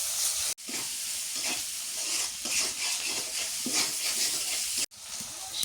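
Fish curry with salt, turmeric, chilli powder and green chillies cooking in a village pot, giving a steady loud sizzle and hiss with occasional stirring scrapes, broken by two brief cuts.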